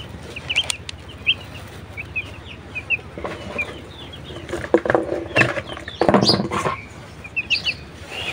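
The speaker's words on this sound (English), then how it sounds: "Here's a look at the very beautiful colorful chicken." Colorful chickens clucking and calling in short, scattered bursts, with a few brief louder squawks near the end over a light background rustle.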